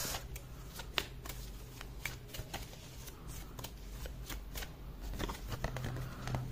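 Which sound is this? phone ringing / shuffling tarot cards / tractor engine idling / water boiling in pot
shuffling tarot cards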